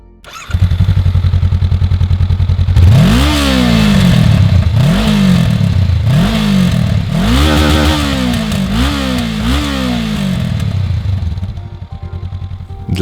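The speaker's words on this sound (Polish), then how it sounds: "Ten basowy pomruk, strzały przy schodzeniu z obrotów to przy standardowym wydechu w obecnych czasach rzadkość." A Honda CB500X parallel-twin motorcycle engine revs repeatedly on its standard exhaust, the deep rumble climbing and dropping in pitch in steady bursts, loud and close throughout.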